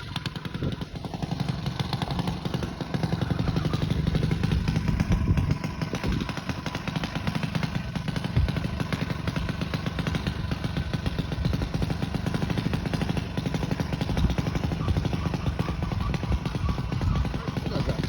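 A junior dragster runs a test pass at the drag strip, its small engine giving a continuous loud, rough buzzing roar that stays strong throughout.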